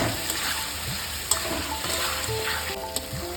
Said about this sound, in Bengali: দেখুন আলুটা একদম এরকম সুন্দরভাবে ভাজা হয়ে গেছে